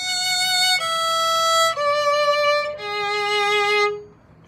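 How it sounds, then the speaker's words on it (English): Solo violin plays the top part of an evening prayer at bar 39, four sustained bowed notes moving from one to the next, bright and close, with the last note fading away. "at 39, top part sounds like this"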